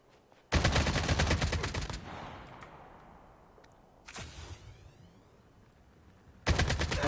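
Gunfire in Call of Duty Mobile: two loud bursts of rapid automatic fire, the first lasting over a second, then a single sharp shot and a final burst, with quiet ambient gaps between them.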